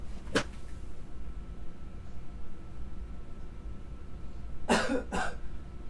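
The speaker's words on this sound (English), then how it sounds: "Coughing on you." A single sharp cough near the start, then quiet room noise, followed by two more quick coughs close together near the end.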